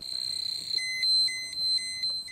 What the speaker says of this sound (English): The monitor alarm sounds to warn them of higher radiation exposure